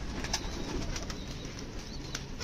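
Pigeons cooing softly in a steady background murmur, with a few brief higher chirps and faint flutters cutting through.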